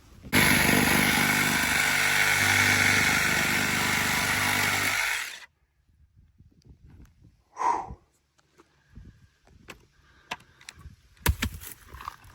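A cordless drill with a fresh battery drives screws, its motor whining loudly and steadily for about five seconds before stopping, followed by quiet handling clatter and a few short knocks.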